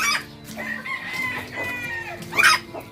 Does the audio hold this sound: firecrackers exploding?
no